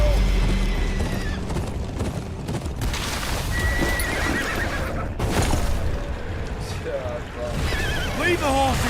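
Horses whinny and neigh in the video game Game of Thrones Kingsroad amid clopping hooves and a busy, rumbling background, with a few shouted voices mixed into the commotion.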